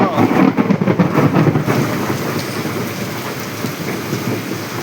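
Steady rain pours down with thunder rumbling low beneath it, a dense wash of drops that holds loud and even across the whole stretch.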